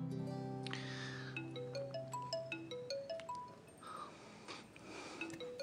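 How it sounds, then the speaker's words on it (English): A mobile phone ringtone plays a bright melodic tune of rising and falling electronic notes, fairly loud and close, ringing alone throughout. "That's your phone."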